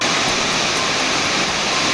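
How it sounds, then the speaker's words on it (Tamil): Kumbakkarai waterfall in the Western Ghats hills of Theni district, swollen and flooding after heavy rain, roars as a dense, steady wall of rushing water that stays loud and unbroken throughout, with no voices. "தேனி மாவட்ட மேற்கு தொடர்ச்சி மலைப்பகுதிகளில் பெய்து வரும் கனமழையால் கும்பக்கரை அருவியில் வெள்ளப்பெருக்கு."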